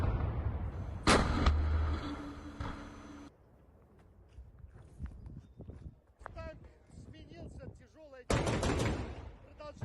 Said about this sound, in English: So now you can see the tank firing into the buildings.